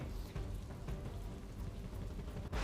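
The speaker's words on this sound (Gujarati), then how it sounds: "ધોધમાર વરસાદ સતત અને કલાકોથી છે" A dense, steady wash of heavy monsoon rain in Surat, Gujarat fills the clip, loud and continuous with no voices.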